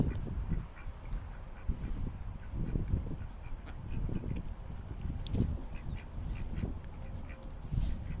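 Ducks quack in a back garden duck yard after winter, with a run of loud, close, irregular honking quacks filling the whole stretch, some overlapping, over faint outdoor background.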